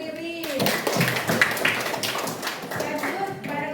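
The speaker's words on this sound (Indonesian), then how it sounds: "tepuk tangan untuk Riri" Brief clapping in a classroom for a student after answering, scattered hand claps mixed with voices talking over them.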